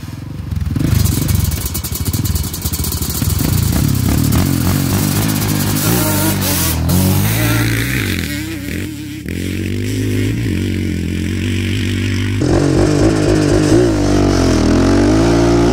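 Yamaha Banshee 421 and Raptor 700 ATVs launch and rev hard, a loud, close, continuous engine roar that climbs and drops through shifts with clattering mechanical noise, no talking.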